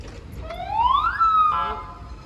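An ambulance siren gives a single rising wail that climbs, peaks, then holds briefly before fading, fairly clear over faint background noise.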